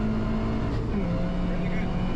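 Toyota 86 on the Wakefield Park race track, its engine droning and rising in pitch as the throttle is squeezed on through a corner, steady and close, with a driving instructor talking over it.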